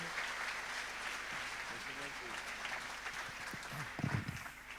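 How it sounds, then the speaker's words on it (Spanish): Faint, distant applause from an evangelical church congregation at a Pentecost evening service, a low wash of clapping that continues steadily under speech. "Y con todo cariño recibimos al pastor Carlos con un aplauso."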